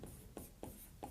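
A pen scratches out a handwritten math answer in short, quiet strokes, three or four brief scribbles spaced close together in an otherwise hushed room.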